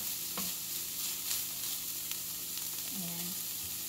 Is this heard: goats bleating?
no